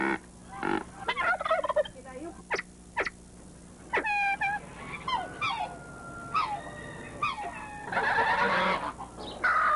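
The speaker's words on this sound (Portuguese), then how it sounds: "a criação de Dona Aparecida tem hoje cerca de 200 aves, o que transforma o local em um palco constante de uma sinfonia um pouco diferente." A farmyard flock of about 200 poultry birds, mixed fowl, turkeys and geese, calling over and over in overlapping gobbles, clucks and honks, loud and near without a pause.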